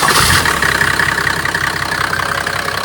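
A Mercedes OM606 diesel engine swapped into a Land Rover Defender idles steadily, a loud, continuous mid-pitched rumble with a slight knocking clatter and a steady rhythm throughout, close up with no talking.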